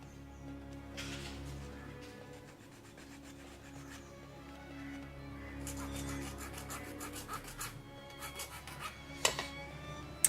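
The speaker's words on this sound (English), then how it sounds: "we're going to take a file and file it." A file rasps along the dried, jagged edge of a handmade paper earring base, a faint, close scraping in repeated short strokes that grows busier and more rhythmic toward the end.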